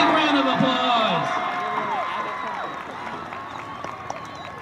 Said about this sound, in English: let's give our 2023 homecoming court and our queen, Aisha Garcia, a big round of applause